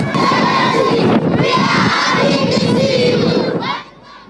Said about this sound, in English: was welcomed by a large crowd of supporters and residents alike